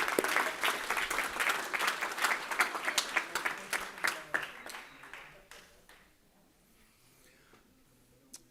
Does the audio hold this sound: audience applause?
yes